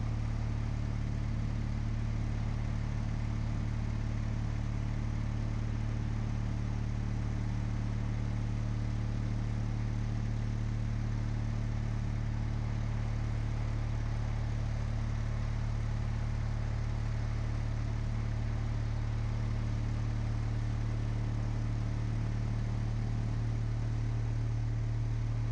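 Steady drone of an Aeronca C3 single-engine light aircraft flying over water, its low engine hum held constant and loud for the whole stretch with no change in pitch.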